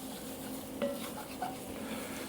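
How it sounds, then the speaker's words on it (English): Onions being stirred in a pan with already toasted garlic, a steady soft sizzle with a few light scraping clinks of a utensil against the pan, close and continuous with no talk. "I'll put the onions in there next, like this. Okay, let me get these cooking around."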